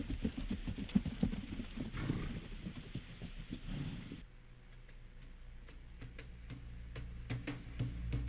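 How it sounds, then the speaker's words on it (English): Peruvian paso horse walking in its smooth four-beat gait in Trujillo, hooves giving a light, steady clip-clop of regular ticks that continue over a murmur of background noise. "appreciate the elegant gait of its famous paso horse"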